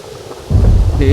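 Deep, loud thunder rumbles in over a dense roar of heavy rain, part of a village thunderstorm at night, with the downpour continuing steadily after the crack.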